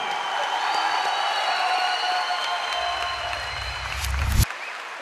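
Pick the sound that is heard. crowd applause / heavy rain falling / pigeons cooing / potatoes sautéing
crowd applause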